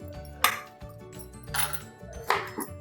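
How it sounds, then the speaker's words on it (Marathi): A knife slices washed okra (bhindi) lengthwise on a board in a kitchen, giving three sharp cutting clacks spaced about a second apart, close and clear over a low steady background hum. "आता त्या आपण अशा उभ्या कापायच्या। तुम्हाला एक वेळा कापून दाखवते।"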